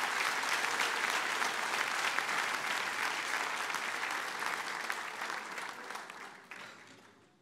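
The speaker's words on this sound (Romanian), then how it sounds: "haideți să-L aplaudăm." A church congregation applauds after a baptism at a service baptizing fourteen candidates, the full, sustained clapping of a large crowd that gradually thins and fades away toward the end.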